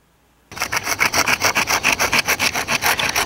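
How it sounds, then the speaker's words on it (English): A small saw blade on a Flissa (Great Star) 16-in-1 multitool cutting into wood, starting abruptly after brief silence, then loud, close, even back-and-forth rasping strokes in a steady rhythm, with no talk. "if you need to saw like a stop cut or a notch into a piece of wood, saw works well"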